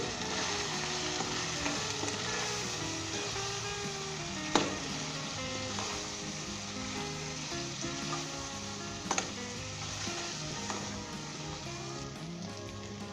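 Mutton coated in National Delhi nihari spice mix fries in a pot with a dense, even sizzle throughout, and a couple of sharp spoon knocks stand out against the background.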